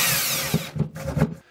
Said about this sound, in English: we're going to go ahead and drill the 1/8-inch hole again